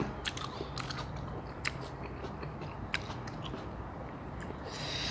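Close biting and chewing of boiled pork head eaten with crisp lettuce and a sour-sweet seafood dipping sauce: repeated sharp crunches and wet, crackly mastication at an irregular rhythm, up close with no talking.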